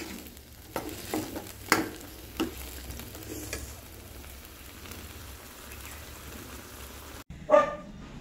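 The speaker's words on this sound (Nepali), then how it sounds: "अब चाहिँ म चाहिँ यो पानीलाई चाहिँ मजाले सुकाउँछु है, सागमा भएको पानीलाई" Greens cook in a pan to dry off their water, giving a soft, quiet sizzle with occasional clinks and stirring knocks, and a brief louder clatter near the end; no talking.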